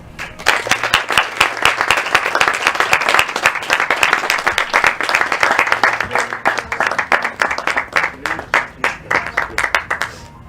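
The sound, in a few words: loud applause for graduates at a ceremony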